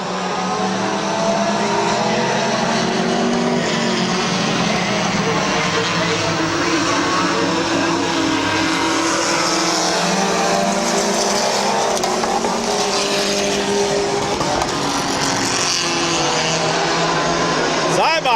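Race cars roar continuously through a heat at Midvale Speedway's 2004 fall classic, a loud steady engine drone running high on the oval, with an announcer talking over it throughout.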